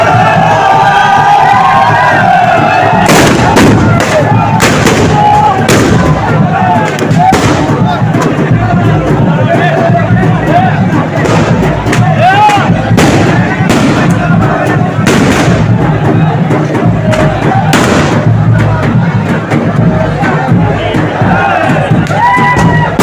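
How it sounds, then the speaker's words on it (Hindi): Guns fired into the air and fireworks boom repeatedly at the Menar village valor celebration, loud sharp bangs in irregular bursts over a dense, noisy crowd with shouting and talk throughout. "लगातार बंदूकों के हवाई फायर और आतिशबाजी से गुंजायमान होते शौर्य के वातावरण"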